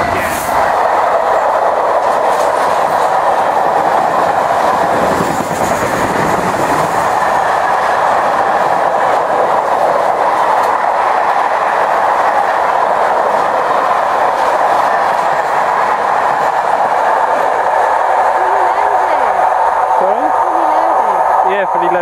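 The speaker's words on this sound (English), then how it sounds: "No, it is a car train." A car-carrier freight train rumbles steadily past close by at Banbury for a long stretch, wheels clacking over the rails, with people talking over the noise.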